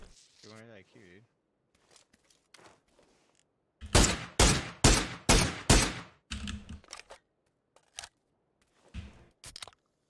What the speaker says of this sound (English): That's who was shooting at us.